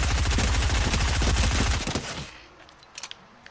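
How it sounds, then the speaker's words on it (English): A submachine gun in Fortnite Battle Royale fires a long continuous rapid burst for nearly two seconds, loud and close, then cuts off, followed by a few faint distant shots. "But look how much damage you can do with an SMG with this."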